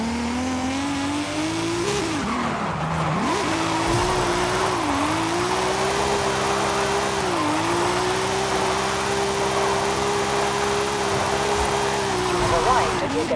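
Engine roar and tire squeal from a Nissan R32 drifting in the video game Forza Horizon 5, the motor droning steadily with pitch dips and rises as it slides, loud and continuous throughout with some speech-like sound mixed in.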